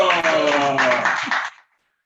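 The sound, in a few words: audience applause welcoming a speaker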